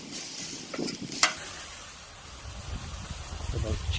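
Thin sausage patties frying in a pan, a soft steady sizzle with a few scraping and clinking touches of a utensil, fairly quiet and close, with light talk partly over it.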